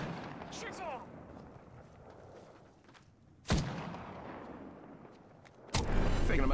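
Gunfire in Apex Legends: two sharp, loud broadband shots, the second followed by a sustained burst of firing, over quieter game ambience and faint voice chatter.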